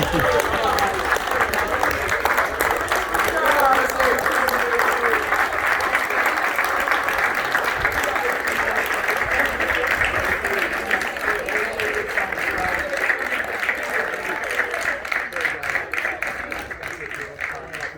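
An audience at an AFC Sudbury academy graduation day applauds and cheers, with dense, sustained clapping close by for about fifteen seconds that thins toward the end.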